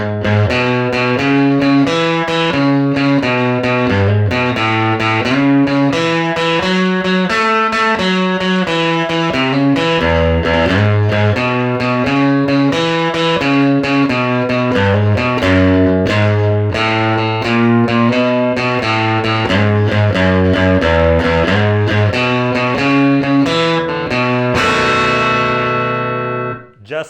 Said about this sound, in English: I'm going to play the same bass line all the way through.